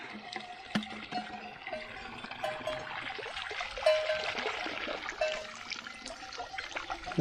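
Mountain water trickles and splashes steadily into a cow trough in the Austrian Alps, a faint continuous burble with small drips and gurgles close by.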